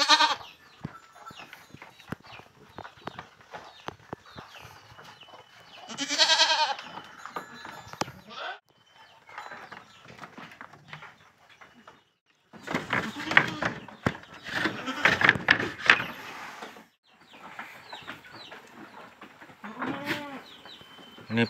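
Boer goats and young kids bleat in a farm pen, several wavering calls rising in bursts at different distances, some close and loud, with background barn noise and a person talking in between.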